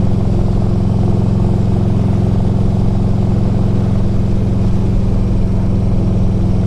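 A 2004 Harley Davidson Electra Glide Ultra Classic cruising at about 60 mph in top gear, its engine a loud, steady low rumble mixed with constant wind and road roar throughout.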